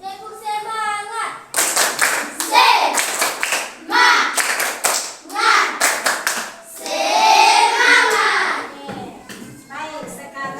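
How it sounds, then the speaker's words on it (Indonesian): Schoolchildren in a classroom perform the tepuk semangat spirit clap, bursts of rhythmic clapping in set patterns alternating with chanted counting and children's voices, loud and close. "Tepuk semangat satu kali lagi."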